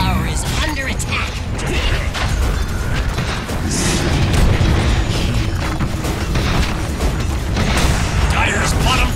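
A tower is destroyed in Dota 2: a sustained crashing, rumbling collapse with repeated impacts and bursts, loud and continuous throughout.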